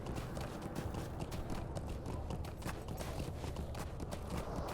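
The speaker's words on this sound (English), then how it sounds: "A horse is a horse, of course, of course." Continuous rapid hoof clatter of a horse on the move in Lord of the Rings Online, steady and dense throughout, close and fairly loud.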